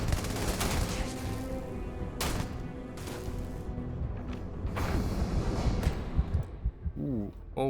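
Gunfire in the video game Starfield hitting the player, with dense bursts of shots and impacts running almost continuously, loud and close, while a voice talks over it.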